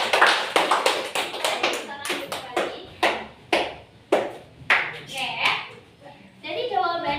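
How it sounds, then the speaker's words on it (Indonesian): A school class claps as a group for a student's answer, a series of sharp, scattered hand claps in irregular bursts near the listener, with children's voices in between. "tepuk tangan dulu untuk 1."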